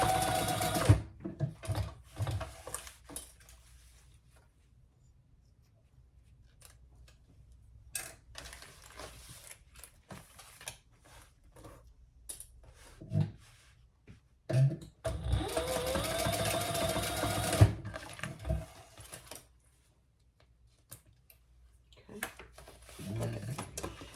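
A sewing machine basts fabric facings onto a zipper for a messenger bag, running in several loud bursts separated by quiet pauses, with a voice speaking at moments between them.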